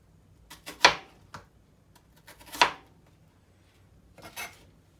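A knife cutting through an onion on a cutting board, a few sharp separate chops and taps with quiet gaps between them, close and clear, with no talk.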